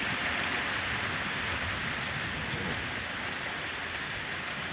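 Heavy rain falls steadily outdoors as a constant, broad hiss with no breaks and no speech, at an even, moderately loud level throughout.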